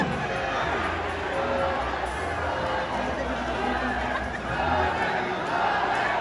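A rowdy live audience at a show fills the space with dense, loud crowd chatter and murmuring, with scattered laughs and shouts, steady throughout with voices overlapping.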